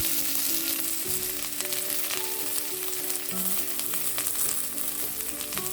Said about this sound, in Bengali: তারই সাথে সাথে আমি অ্যাড করে দিলাম কাঁচা লঙ্কা। এটাকে একেবারে একটু ফ্রাই করে দিলাম।